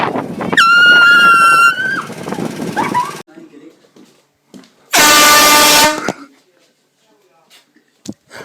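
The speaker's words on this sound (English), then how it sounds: "Air horn scare." Two loud, close air horn blasts go off as scare pranks, a blaring tonal honk followed by a second, harsher blare after a pause, with startled shouting and voices around and between them.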